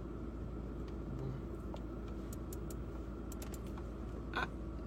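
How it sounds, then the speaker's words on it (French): A car climbs uphill somewhere off in the distance, a low steady engine rumble that holds for the whole stretch, with a few faint clicks and taps nearby and no talking. "c'est une voiture qui monte quelque part"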